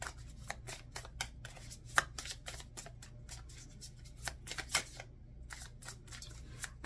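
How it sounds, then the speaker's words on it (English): A deck of tarot cards being shuffled up close: a run of quick, papery slaps and riffles in an uneven rhythm, fairly soft, with no talking over it. "I could shuffle these cards."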